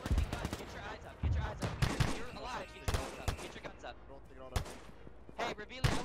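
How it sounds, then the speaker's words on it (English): Sharp gunshot cracks from sniper fire in the Arma 3 military game, several loud irregular reports scattered over a few seconds, mixed in among overlapping voices talking throughout. "We are getting sniped at pretty heavily."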